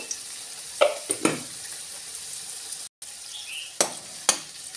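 Potato pieces seasoned with salt and turmeric fry in oil, a soft continuous sizzle broken by a few sharp scraping stirs and one brief dropout, with no voices.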